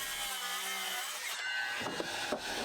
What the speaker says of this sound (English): I started marking up where I would make some cuts, which I did with my circular saw